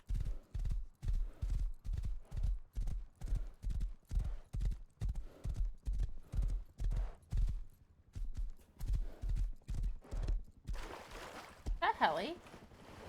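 Horse hooves clip-clop steadily on the ground in the survival video game Rust, a loud, even rhythm of close footfalls running throughout, with a brief horse whinny near the end.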